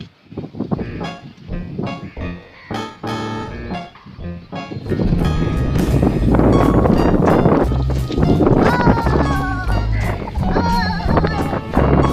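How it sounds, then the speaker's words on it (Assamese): Strong, steady wind roars and buffets the microphone, rising sharply partway through and staying loud and rumbling to the end. "মই জোৰছে বতাহ দি আছে"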